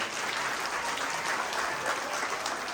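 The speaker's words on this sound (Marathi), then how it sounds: "दोन्ही हात वरती करून टाळ्या वाजवा." Audience members at a Haldi-Kunku women's gathering with a Home Minister game show clap in steady, continuous applause, a dense even patter of many hands at moderate distance.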